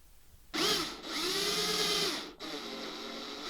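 Power drill boring into wood, with blue tape wrapped on the bit as a depth stop, whirring loudly up to speed, dipping briefly mid-cut, then dropping and running on at a lower steady whine, close and without talk.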